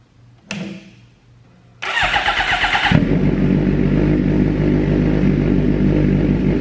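A rebuilt 2015 Suzuki GSX-R 750 sport bike cranks with a short click and whir, then its engine catches and settles into a loud, steady idle close by.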